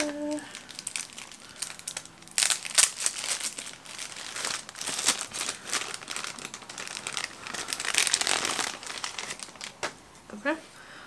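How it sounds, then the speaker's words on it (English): A damp paper towel is crinkled and handled while unpacking a mailed plant cutting with sphagnum moss. Close, irregular crinkling bursts continue throughout, with a person talking over them. "Okay, damp paper towel,"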